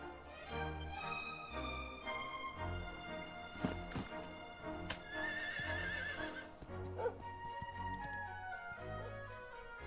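Horse neighing and whinnying with clip-clopping hooves in Dragon Quest XI S Definitive Edition, set over orchestral game music, several whinnies across the scene.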